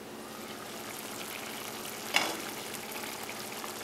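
Mixed vegetable curry cooking in a pot with added water, a soft continuous sizzle and bubble with one brief clatter partway through, quiet and steady.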